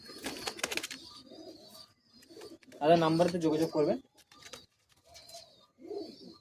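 Madrasi pigeons coo nearby in a few low soft bursts, one longer rolling coo in the middle, with someone talking in between.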